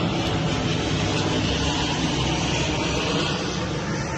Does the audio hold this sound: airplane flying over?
yes